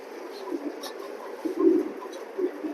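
Racing pigeons in a loft coo in soft, low repeated calls, a few louder coos rising midway, close by under a steady murmur of background noise.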